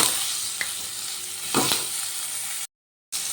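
Cut potatoes frying in oil in a wok (kadai) with salt and turmeric, a steady close sizzle with a few soft stirring scrapes; it cuts out briefly near the end before resuming.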